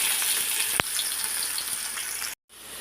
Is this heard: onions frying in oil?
yes